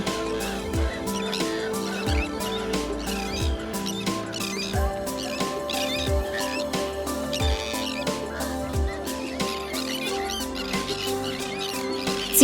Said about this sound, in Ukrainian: Найбільше тут крячків.